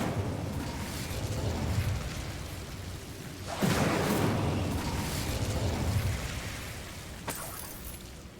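A fiery burst from the Incendio fire spell cast in a video game, with a roaring whoosh that swells sharply partway through and then crackles and fades, followed by a brief, sharp pop near the end.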